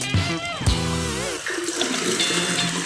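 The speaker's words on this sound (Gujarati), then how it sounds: "આવી રીતે પાણી આવે છે એમ જોઈ લો" Water pours steadily into a tank, a continuous rushing and gurgling flow heard close up, with a brief whine-like tone near the start.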